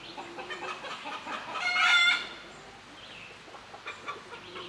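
Pet birds in the background let out a loud, harsh, squawking burst for about a second midway, surrounded by quieter scattered chirps.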